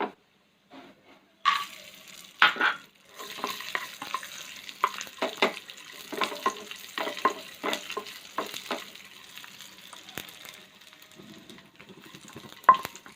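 Raisins dropped into hot ghee in a pan, crackling and spattering in uneven bursts with stirring scrapes, close and fairly quiet.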